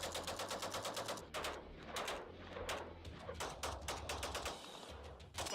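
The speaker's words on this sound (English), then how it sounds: "Fucking bump firing and M1 Garand goes hard." Rapid bump-fired shots from an M1 Garand rifle crack out in quick, slightly uneven bursts, loud and sharp, with brief pauses between strings of fire.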